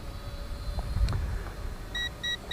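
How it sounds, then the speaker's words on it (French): Three short, evenly spaced low-battery beeps from an Eachine E511S drone's radio controller sound near the end over a faint background hum, after a quiet stretch with a soft thump. "donc la radio s'est mise à biper."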